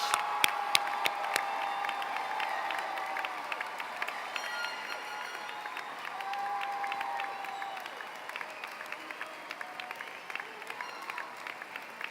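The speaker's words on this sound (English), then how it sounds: "give these Howard High School soon-to-be graduates a thunderous round of applause" Crowd applause and cheering for Howard High School's 2019 graduates at their commencement ceremony, a dense, steady roar of clapping from a large audience that holds for the whole stretch, with a few sharper claps and whistles standing out.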